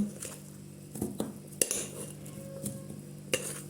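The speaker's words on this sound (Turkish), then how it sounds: "Hemen pastamı üzerine boşaltıyorum." Mosaic cake mixture is emptied out with a spoon, making light clinks and taps of metal on a dish at irregular moments over a faint background.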